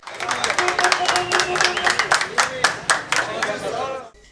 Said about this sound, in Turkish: Başkan Seçer, birçok yerde vatandaşların alkışlarıyla karşılandı.